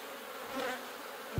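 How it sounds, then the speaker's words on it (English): Steady honey bee buzzing fills the short stretch, a dense hive hum from an open horizontal beehive with a slight swell midway and a brief low thump near the end. "That is a nice frame right there of bees and nectar."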